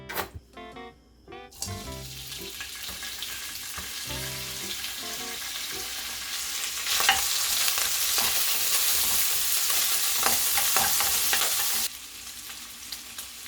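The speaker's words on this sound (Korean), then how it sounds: "팬에 기름을 두르고 베이컨을 먼저 볶아주세요." Bacon stir-fries in an oiled pan with loud continuous sizzling, opening with a few clanks and scrapes before the frying settles into a steady hiss that swells midway and eases near the end.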